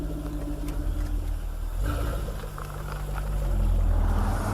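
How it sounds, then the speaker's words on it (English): A 2015 Jaguar F-Type Coupe engine starts and rumbles steadily, then rises in pitch and loudness as it is revved, with a deep exhaust burble throughout. "as you fire the engine and a spectacular set of aural fireworks begin"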